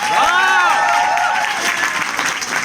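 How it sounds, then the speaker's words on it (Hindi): An audience at an opening ceremony in Uttar Pradesh claps for guests, a steady loud round of applause overlaid by a tonal sweeping whistle or electronic sound near the start. "अरुण भारती सर के लिए मैं चाहता हूं जोरदार तालियों से"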